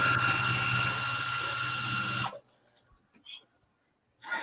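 A sewing machine stitches close to the edge of a fabric shopping bag that folds into a pouch. It gives a loud, steady whir for about two seconds, then stops abruptly, leaving near silence broken by a few faint small sounds.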